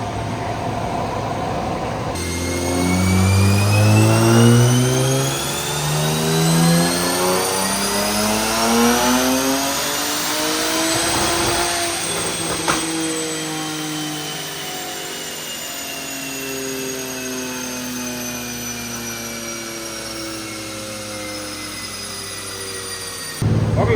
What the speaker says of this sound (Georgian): მოკლედ ბარნახევარზე მუშაობს მანქანა წესიერად და სადღაც 560 იძლევა ბორბალზე.